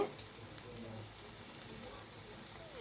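Shrimp and lentil fritters, dal bora, frying in oil give off a faint, steady sizzle and bubbling crackle throughout, soft and continuous with no talking over it.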